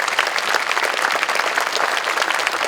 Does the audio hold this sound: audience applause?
yes